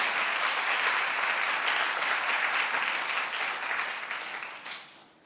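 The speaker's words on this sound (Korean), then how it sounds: "우리 박수 한번 쳐주시길 바래요" A church congregation claps steadily for several seconds, the applause thinning and fading out at the end.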